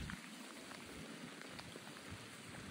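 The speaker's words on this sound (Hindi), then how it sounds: "बारिश की बूंदें भी आ रही हैं कैमरे पे।" Rain falls steadily in a village in Punjab during a thunderstorm, a faint, continuous patter of drops with no voices.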